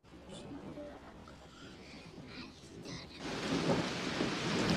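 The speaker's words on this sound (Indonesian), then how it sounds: "Malam itu cuaca sedang hujan." Steady rain at night with rumbling thunder, the downpour swelling louder and heavier toward the end, with a faint voice-like murmur underneath.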